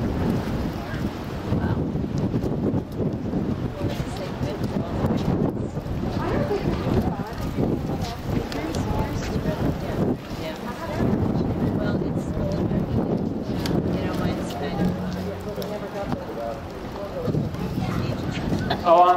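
Steady wind roars and buffets around a burning deck built with hardboard siding and sidewalls, a continuous outdoor rush heard close to the microphone, with a person talking over it.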